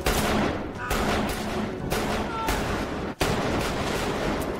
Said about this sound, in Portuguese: na cena do metrô, podemos ver que Arthur dispara oito vezes contra os homens